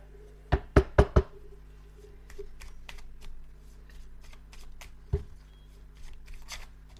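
Tarot cards riffle in a quick burst of four sharp snaps, then scattered softer card handling and one more crisp flick, close and clear in a quiet room.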